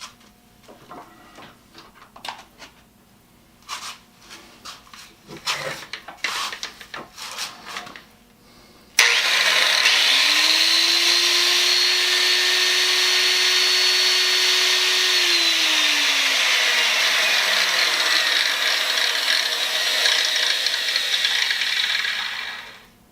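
Scattered clicks and rattles, then a Hitachi 9-inch grinder motor switches on, whining loudly and steadily before spinning down at the end.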